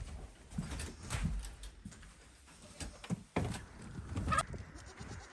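Goats on a reptile ranch bleat several times in short, irregular bursts at close range, with rustling and shuffling movement between the calls.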